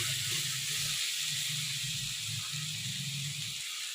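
Raw banana curry frying in a pan gives off a steady, bright hiss that holds evenly throughout, with a faint low hum underneath and no talking.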